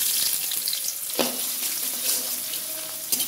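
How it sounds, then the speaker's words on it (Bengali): Spices and onion fry in hot oil, a loud, continuous close sizzle with bright crackle, broken by a few sharper stirring scrapes, and no talking. "মশলাটা তেলে একটু ভেজে নিলে এটা আসলে স্ট্রং একটা ফ্লেভার পাওয়া যায়"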